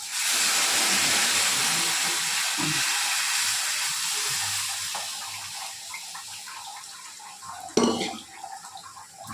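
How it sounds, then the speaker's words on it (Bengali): Lentils tipped into deeply browned fried onions, a broad steady sizzle with kitchen clatter that fades gradually, then a sharp metallic knock near the end. "এবার আমি এই ডালটাকে ছেড়ে দেবো, ডালটাকে ছেড়ে দিলাম।"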